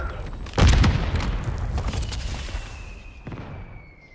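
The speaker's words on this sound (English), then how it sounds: "Grenade out!" A single heavy grenade blast in the Call of Duty video game booms up close, then its rumble and debris decay over several seconds into a quieter background hum.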